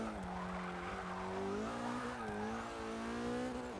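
A Porsche 944 Turbo in Forza Motorsport 6 breaks loose with tires squealing in a long, wavering skid over a revving engine, loud and continuous.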